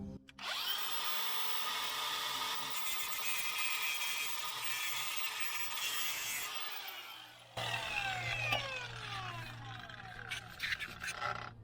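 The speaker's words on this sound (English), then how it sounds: "we're gonna clean a bit of the paint off right there so it can ground and we can get a weld" A power tool, likely an angle grinder with a wire wheel or disc, scours paint off a steel surface to make a clean ground spot for MIG welding, running loud and steady with a brief stop and restart near the end.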